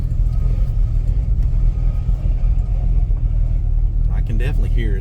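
An Avanti car drives along on its first outing, its engine and road rumble steady and loud from inside the cabin, with a voice speaking near the end.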